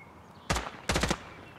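Two short bursts of rapid automatic gunfire from the video game Project Quarantine, the first brief and the second slightly longer, loud and close against quiet background.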